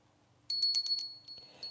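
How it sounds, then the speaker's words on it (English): A small hand bell is shaken, giving a quick run of bright high rings that then trail off into a few fainter tinkles in an otherwise silent room. "In fact, I'm going to get my bell."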